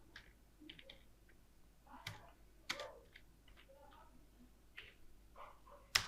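Quiet, scattered keystrokes tap on a keyboard as a location is typed into a map search bar, a few soft clicks in irregular bursts close by.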